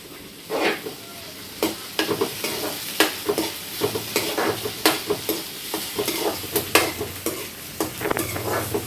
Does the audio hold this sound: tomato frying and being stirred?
yes